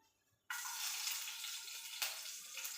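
Green chillies dropped into hot oil for upma, bursting into a sudden sustained sizzle after a short silence, with a brief crackling flare partway through, fairly close and alone.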